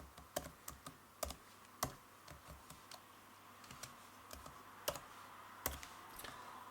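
Fingers type a file name on a computer keyboard, a quiet, uneven run of close key clicks with short pauses between bursts and no talking.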